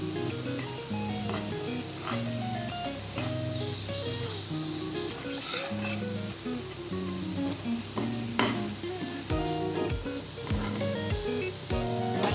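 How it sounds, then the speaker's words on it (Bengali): Spices sizzle and fry in a hot pan, a steady, close crackling hiss that runs throughout, with occasional stirring scrapes and soft knocks near the end. "আঁচে মশলাগুলোকে ভেজে নেব"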